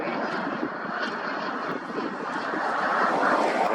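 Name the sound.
aircraft engine during touch-and-go landing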